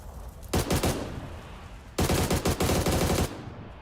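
Two loud bursts of rapid automatic gunfire in the video game PUBG, on the Erangel map, each lasting over a second, separated by a short pause with quieter background noise.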